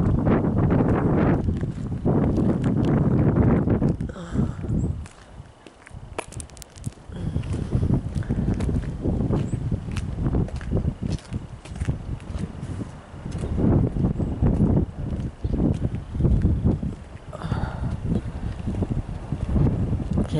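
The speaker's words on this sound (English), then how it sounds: "the wind is coming up really bad right now" Strong outdoor wind buffets the microphone in loud, sustained gusts, with a brief lull in the middle before it picks up again, rumbling and roaring without talk.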